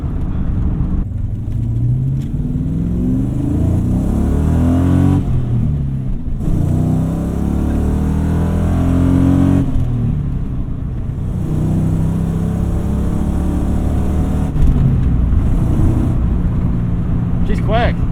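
A 1996 SN95 Ford Mustang GT V8 accelerates in second gear at part throttle, a steady, loud low engine rumble heard from inside the car that pulls continuously, with people talking over it.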